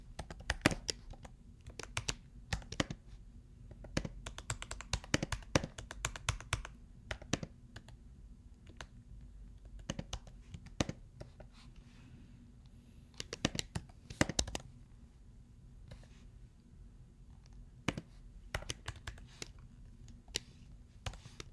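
Computer keyboard typing while C++ loop code is written, a steady run of close, crisp key clicks with irregular rhythm and short pauses, alone over quiet room tone.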